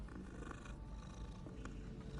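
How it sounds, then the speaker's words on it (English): A cat purrs softly while being petted in the Hogwarts Legacy video game, a continuous low rumbling purr that stays faint and steady throughout. "Oh look, I could pet a cat."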